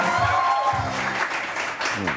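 A studio audience on a morning television talk show claps briefly, and voices talk over and around the applause.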